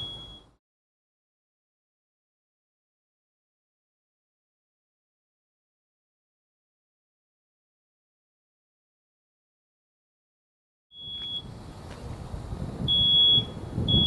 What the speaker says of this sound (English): In just a moment, you're going to hear the smoke detector.